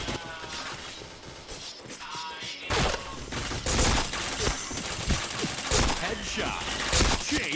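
Rapid bursts of video game gunfire crackle loudly and steadily throughout, with sharp shot transients overlapping into continuous fusillade-like volleys and a few heavier impacts.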